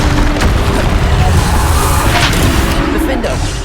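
Bombarda blasting spell bursting in Hogwarts Legacy, a loud booming explosion amid dense, continuous battle noise, with shouted voices over it.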